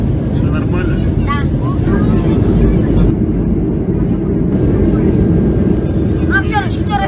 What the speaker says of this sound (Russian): Ну что, Мира, взлетели?